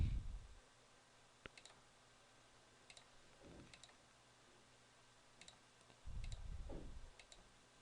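Faint, sparse computer mouse clicks, some paired like double clicks, come while drawing on a GIS web map viewer in a quiet room.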